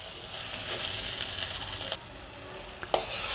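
Soft, steady sizzling of tomato and betel leaves sautéing in a pan, with occasional light scrapes and clicks of stirring.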